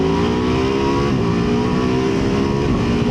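A Ducati Multistrada V2S motorcycle engine pulls hard under acceleration, a loud, steady, close-up roar with rising pitch through a short burst.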